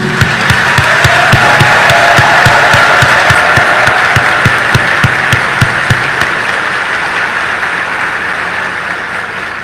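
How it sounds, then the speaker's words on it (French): Thunderous applause from a graduation audience, dense sustained clapping with strong rhythmic beats near the start, continuing steadily and easing slightly toward the end. "qu'il est juste et beau de vous exprimer notre gratitude par ce tonnerre d'applaudissements"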